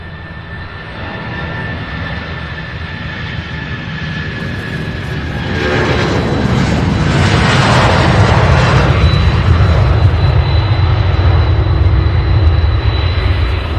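An aircraft passes at Louisville International Airport, its engine roar building sharply midway into a loud, close, rumbling blast that stays heavy to the end.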